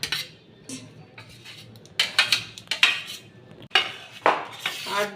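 Fried vegetables, cauliflower, potato, capsicum and beans, are tipped one after another into a pot for a vegetable dal, with a metal spoon clinking and scraping against the pot in short, uneven bursts.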